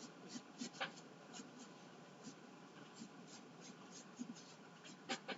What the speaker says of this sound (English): So now we're going to do our circle. Again, roughly sketch it. Use a pencil.